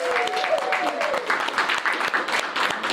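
A live studio audience claps in a steady round of applause, dense and fairly close, with a voice calling out over it near the start.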